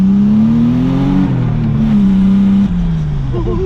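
A Nissan-powered Miata engine runs loud and close, holding a steady rev with a few small rises and dips, with a voice briefly audible over it.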